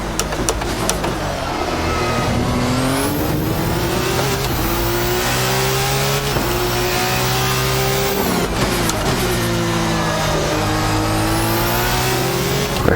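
Formula 2 race car engine in F1 2019 at the Baku circuit, revving loud and continuous with repeated rising pitch sweeps as it accelerates through the gears and briefly lifts between shifts.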